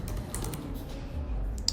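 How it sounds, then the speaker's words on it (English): Keys clatter on a computer keyboard as a search field is filled in, a quick run of light, close clicks in bursts with a short pause partway through. "I'm going to type that in again"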